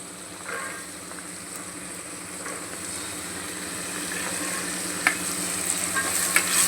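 Vegetables stirred in hot oil with onion, tomato and green chilli for soybean veg pulao, a steady frying sizzle with occasional spoon scrapes, growing slightly louder toward the end.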